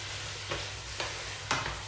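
A spoon stirs pumpkin and meat in a hot frying pan, giving three distinct scraping strokes at steady intervals over a soft continuous sizzle, close and clear with no talking.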